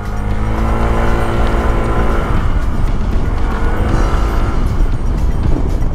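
A Euro Motor Falcon 180i motorcycle accelerates hard nearby, its engine note loud and steady across the whole stretch with rising harmonic tones as speed builds.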